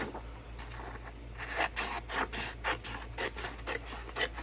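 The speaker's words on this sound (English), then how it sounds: "I'm going to cut it in half" Scissors cut a garden journal page in half, giving a run of close, soft snipping and paper-rasping strokes in an uneven rhythm over a low steady hum.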